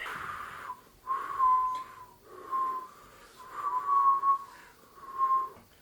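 A person whistles a series of four or five clear sustained tones with short breaths between them, close and fairly loud, with no talking.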